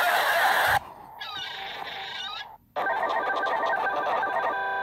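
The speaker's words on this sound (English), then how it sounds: "And a bird having a seizure." A cartoon bird squawks wildly in a DuckTales YouTube Poop edit, with loud, honking, goose-like cries in choppy bursts broken by abrupt cuts and a brief near-silent gap.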